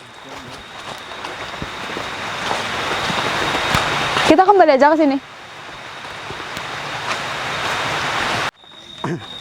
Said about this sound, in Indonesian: Oh, ini hujan. Hujan lagi nih.